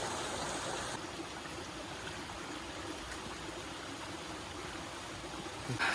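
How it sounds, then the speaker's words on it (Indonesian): Clear mountain spring-fed river flowing through forest on the Pancasila trail of Mount Tambora, a steady broadband rush of running water heard up close with no voices. "Ini sungainya mengalir"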